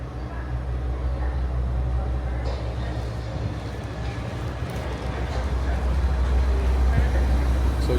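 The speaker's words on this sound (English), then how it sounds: "Right, this is our train to Whitstable." A train to Whitstable, one stop from Herne Bay, with a low continuous rumble and engine hum that grow slightly louder over several seconds while people talk nearby.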